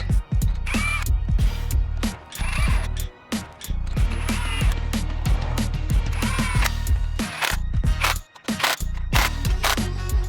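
Lug nuts being threaded by hand onto the studs of a Ford Focus ST/RS fitted with 20mm Eibach wheel spacers, giving repeated close metallic ratcheting clicks and clanks in quick irregular bursts with no talking.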